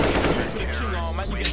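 Gunshots in Counter-Strike: Global Offensive rattle through dense game noise, with a rapid run of shots blending into the mix.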